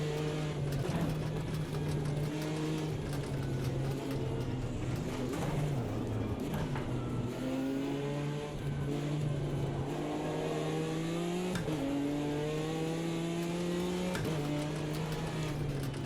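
Race car engines in the Automobilista 2 racing game at Bathurst, including a Porsche and a Ginetta, drone and rise as they rev and shift, a loud continuous pack of cars close together.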